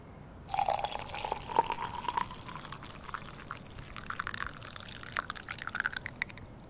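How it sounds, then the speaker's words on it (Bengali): Hot water poured from a kettle onto instant coffee in a cup, a faint, quiet trickling pour that runs for several seconds and is then followed by scattered small drips and splashes. "গরম জলে কফির পাউচ ঢেলে চামচ দিয়ে নাড়তে নাড়তে"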